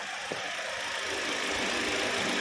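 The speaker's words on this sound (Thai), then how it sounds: "เดี๋ยวเรามาฟังเสียงเครื่องยนต์กันนะครับ" A 2014 Toyota Corolla Altis 1.8S Esport engine idling steadily with the air conditioning on, a low, even rumble and constant hum, heard close up with no voices.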